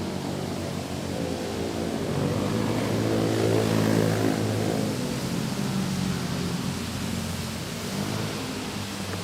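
An Airbus A321 taking off at Manila's international airport, a loud, steady broadband jet roar that swells slightly mid-clip and holds constant without any voices.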